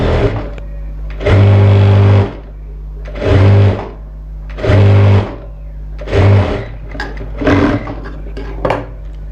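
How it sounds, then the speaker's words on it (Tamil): A sewing machine runs in five bursts, stitching a folded blouse edge. Each burst is a steady, close mechanical whir lasting one to two seconds, with brief pauses between and no speech. "அப்படியே ஒரு தையல்ங்கிறத போட்டு எடுத்துக்கோங்க"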